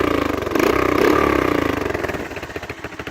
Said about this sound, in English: So it seems to be idling all right.